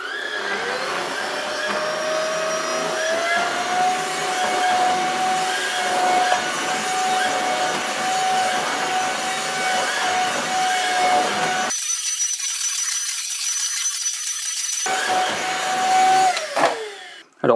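An Ultenic U20 cordless stick vacuum runs on a short-pile rug at medium power in carpet mode. Its close, steady motor whine and brush roar hold for most of the clip, shift in tone partway through, then cut off near the end.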